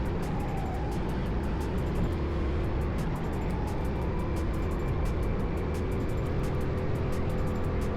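Go-karts racing on the track at Lone Star Kartpark, a steady close engine drone with rival karts closing in from behind, continuous and loud throughout without talk.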